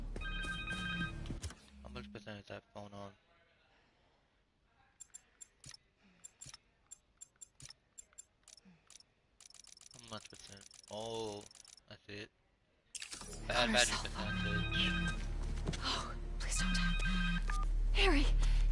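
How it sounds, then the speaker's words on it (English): A phone rings in the video game Marvel's Spider-Man 2, a repeating electronic ring set among game sounds, with voices speaking around it. "Phone!"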